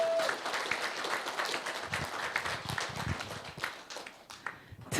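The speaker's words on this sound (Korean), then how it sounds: "우리 패널들을 위해서 힘찬 박수 보내주시기 바랍니다" Audience applause for the panelists at a talk concert on mind study fills the room as dense, ragged clapping that thins and fades toward the end.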